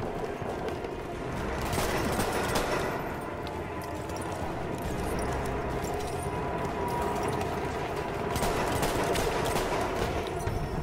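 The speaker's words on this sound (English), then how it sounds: "I love this shotgun." Rapid gunfire in a Battlefield 1 match, where a shotgun is the weapon in use, with continuous crackling shots and battle noise at a steady, fairly quiet level throughout.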